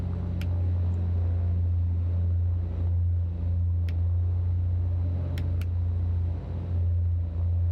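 The right engine of a simulated Beechcraft Baron BE58 in X-Plane 12 drones in a loud, steady run-up at elevated power, with small dips as the magnetos are checked and a few faint clicks.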